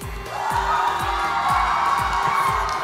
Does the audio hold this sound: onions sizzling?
no